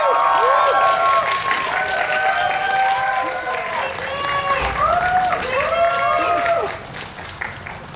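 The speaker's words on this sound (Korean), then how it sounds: "큰 박수로 맞이해주세요" An audience at a Seoul cinema claps for arriving actors and a director, a moderate wash of applause under excited voices and cheering, the clapping thinning toward the end.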